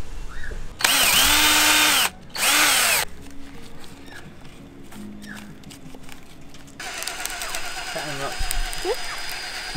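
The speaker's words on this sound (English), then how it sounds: "We are drilling a hole into this coconut, trying to get it open." A power drill whirs loudly into a coconut in two short bursts, followed by quieter handling and background talk, then a longer lower drilling sound, at a beach camp.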